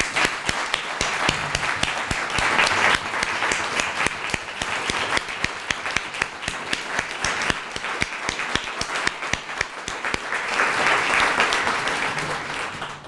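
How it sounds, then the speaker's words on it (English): Sustained audience applause at a community grant announcement and birthday celebration, many hands clapping steadily and fairly close for about thirteen seconds, swelling slightly near the end. "I just want to give them a round of applause and thank them."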